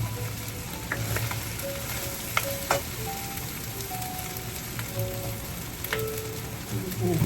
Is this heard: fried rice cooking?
yes